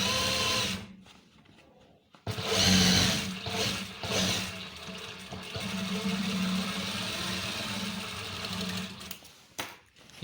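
A sewing machine runs in close, steady bursts while double-stitching the back seam of trousers for a police uniform, pausing briefly between runs of stitching.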